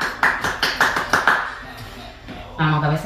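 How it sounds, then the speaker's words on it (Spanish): Several sharp hand claps in quick, even rhythm at the end of a music-therapy exercise session, close and loud, followed by a brief spoken voice. "Un aplauso para ti."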